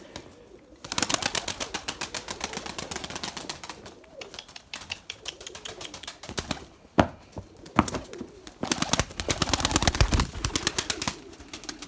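Erzurum white pigeons flapping their wings in bursts of rapid close clatter, with soft cooing in between and a few sharp wing claps.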